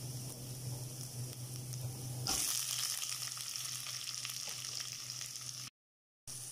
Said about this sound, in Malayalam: ഇപ്പം സവാള ചേർത്തിട്ടുണ്ട് ഇത് നന്നായിട്ടൊന്ന് വഴറ്റി കൊടുക്കാം